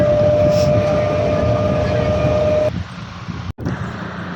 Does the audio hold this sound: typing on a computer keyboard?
no